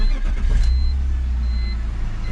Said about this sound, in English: So let's turn on this car